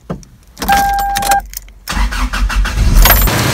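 First-generation Toyota Tacoma truck, during alternator testing: a short whirring crank with a high whine, a pause, then the engine catches and runs with a steady rough idle rumble, close by.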